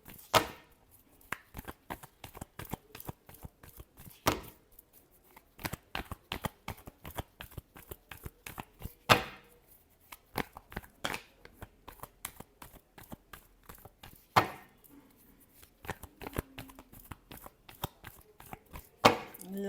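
Tarot cards being shuffled in quick, crisp bursts of riffling and flicking, with short pauses between rounds, close and fairly quiet with no talk.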